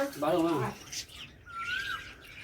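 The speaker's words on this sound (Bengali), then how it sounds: "কি সুন্দর কোকিল লাগছে দেখো" A koel calls once with a clear rising whistle, heard after a short burst of nearby speech, with quiet background noise.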